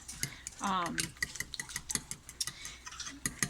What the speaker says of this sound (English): But you want to just get the egg totally blended.